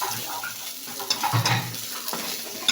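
Onion and garlic sautéing for a Filipino sarsyadong fish, a steady low sizzle with scattered utensil scrapes and a couple of louder clinks near the end, no voices.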